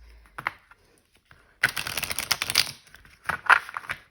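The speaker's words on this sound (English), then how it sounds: "I'm going to shuffle your tarot first" Tarot cards being shuffled by hand, giving papery riffling and crinkling bursts: one short flick early, then a longer run of rapid card slaps, a brief pause, and another quick shuffle, close and fairly quiet with no talking.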